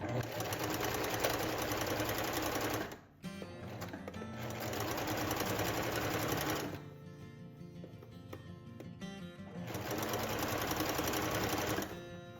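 A sewing machine stitches a dress in three sustained runs, close and steady. Brief pauses between the runs carry faint handling noise.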